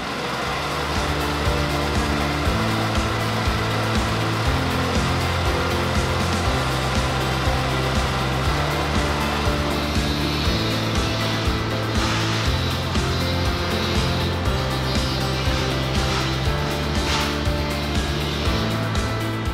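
A concrete grinder at work during surface demolition gives a loud, steady, droning whine that varies slightly in pitch and carries on without a break, with no voices.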